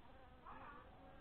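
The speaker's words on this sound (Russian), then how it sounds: "зашла в конечном итоге пчела к себе домой" A honeybee entering its hive at a wintering apiary, a single insect buzz swelling briefly in the middle over a steady low background hum, fairly quiet and close.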